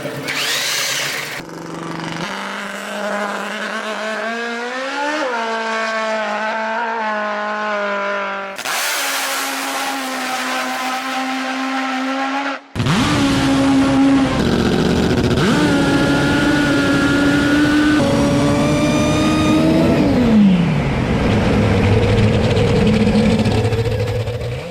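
A Nitro Voodoo top fuel drag motorcycle running on nitro fires in loud, rasping bursts, its engine revving and wavering in pitch, cutting off abruptly between runs before roaring again close by.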